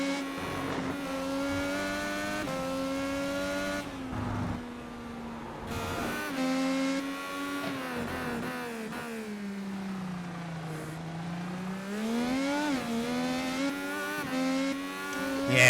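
Several IndyCar race engines howl at high revs around Laguna Seca in a VR racing game, a steady loud drone that rises and falls with gear changes and corners, with no talking.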